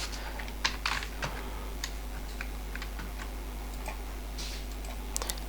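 Keys tapped on a computer keyboard while entering a formula in Excel: sparse, irregular clicks close to the microphone, some in quick clusters, over a steady low electrical hum with no talking.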